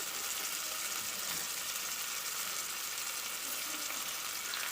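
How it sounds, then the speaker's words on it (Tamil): Tomatoes and onions sautéing in a pan for a crab curry, giving a steady, even sizzle of frying that runs unbroken and fairly close throughout, with no voices. "தக்காளி ஆட் பண்ணிவிட்டு தக்காளி வதங்கிறதுக்காக கொஞ்சோண்டு நம்ம உப்பு இதில் ஆட் பண்ணி நல்லா வதக்கிக்கலாம்"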